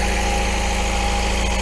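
An MGB car engine idling steadily while it warms up, a loud continuous low rumble with even vibration and no voices.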